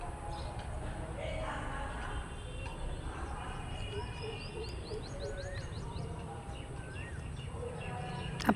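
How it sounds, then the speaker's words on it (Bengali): Several different birds calling at a distance, with thin whistles and chirps over steady outdoor rumble and faint insect-like buzzing. "এখানে অনেক ধরনের পাখি ডাকছে"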